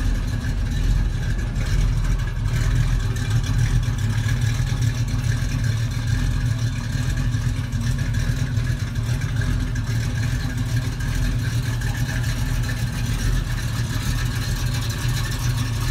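A 1973 Chevrolet Stepside pickup truck engine running at a steady idle, a continuous low rumble with a constant mid hum, close and unchanging throughout.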